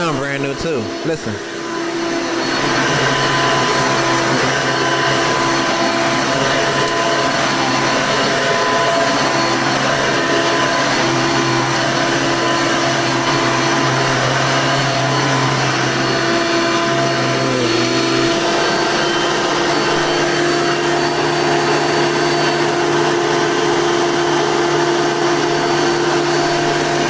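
A Hoover upright vacuum cleaner bought like new in 2016 runs with a loud, steady motor whine and airy roar, its pitch shifting slightly partway through, with no talking over it.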